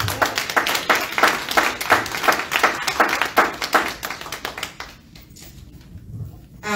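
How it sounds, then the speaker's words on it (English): A church congregation claps hands in praise, a loud, crowded burst of rhythmic claps. It runs steadily for several seconds, then thins out into scattered, fading claps and quiet. "Let's give God a hand clap of praise."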